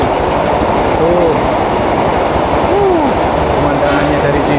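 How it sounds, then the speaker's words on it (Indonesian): Train passing along a railway line near a long rail bridge in Indonesia: loud, continuous rumble of rolling wagons with metallic wheel squeals, close and steady throughout, with talk mixed in. "Oh ada kereta lewat kawan-kawan, kita tonton dulu."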